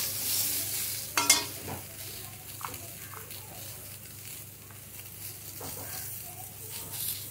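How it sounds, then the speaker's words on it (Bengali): Flat beans fry in a pan with a steady low sizzle. A spatula stirs them with a few sharp scrapes and clatters, loudest near the start. "শিমগুলোকে আমি ভালো করে আগে ভেজে নেবো, একটু লাল লাল করে ভেজে নিতে হবে"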